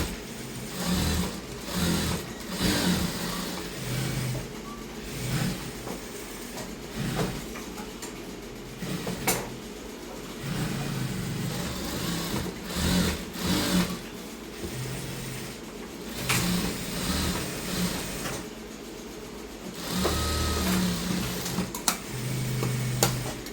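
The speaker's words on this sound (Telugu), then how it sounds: "పైన ఈ విధంగా ఒక స్టిచ్ చేసుకోవాలి." A sewing machine runs in steady bursts while stitching a dress, with close, continuous mechanical whirring and rhythmic needle clatter that starts and stops across the clip.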